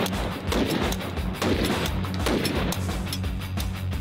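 Gunfire from a firearm at a shooting session, a rapid series of loud close shots in an uneven rhythm over a few seconds with no talking.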